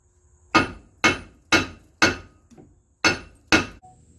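A heavy hammer strikes the back of a Dodge Caravan wheel hub to knock it loose: six sharp, ringing metallic blows at a steady pace, close and loud, with a brief pause before the last two.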